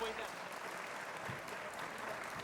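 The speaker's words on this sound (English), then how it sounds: "Big round of applause for Mr. Jeff King." An audience applauds at an event, with steady, close clapping that stays even throughout and no voices above it.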